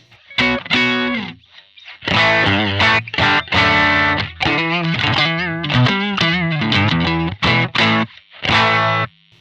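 Electric guitar plays a melodic run of notes and chords through a Zoom MS-50G Fender Twin amp model, a clean, full tone, with no one speaking.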